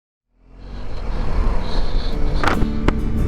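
A 2020 BMW R1250 HP motorcycle pulls away on a ride out of Phoenix, Arizona, its engine and road noise swelling from silence into a loud, steady rush that holds to the end.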